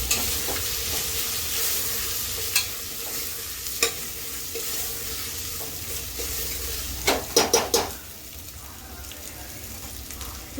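Goat head curry ingredients frying in a pan, a continuous close sizzle with occasional scrapes and clinks of a spoon against metal and a cluster of sharper knocks near the end, without talk.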